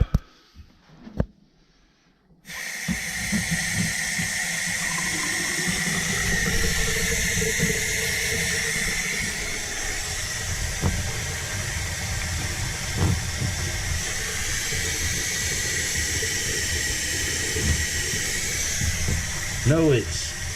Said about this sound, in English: run some water